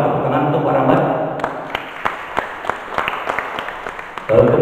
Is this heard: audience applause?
yes